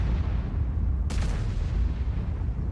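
A tank gun fires once in an online video game tournament match, a sharp booming crack over a constant low rumble of engine noise, with no talking during the shot.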